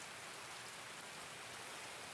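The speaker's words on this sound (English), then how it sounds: "Oh, yes, the rain." Steady, dense rain hiss falling in a video game, a soft continuous wash of patter with no gaps and nothing else over it.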